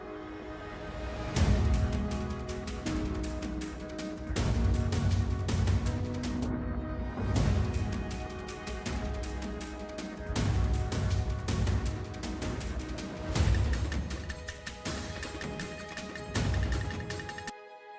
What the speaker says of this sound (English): after we combine all of the stems with all of the changes, the final music score sounds like this